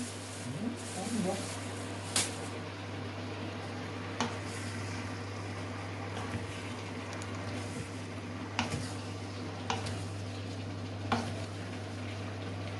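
Food frying in cooking oil gives a soft, steady sizzle under a constant low hum, with a few sharp clicks and stirring taps scattered through it.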